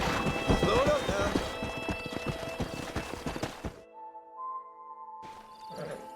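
Horse hooves clip-clop loudly and a stallion whinnies in the Red Dead Redemption video game, with a steady galloping rhythm under busy game sound before it cuts to near silence and a brief voice.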